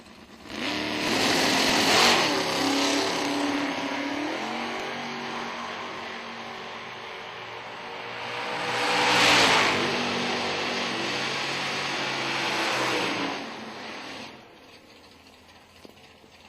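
A 1962 Plymouth Fury and a 1967 Chevy Chevelle launch off the line at an IHRA drag race, engines roaring loud and close, surging twice before the rattling noise drops away near the end.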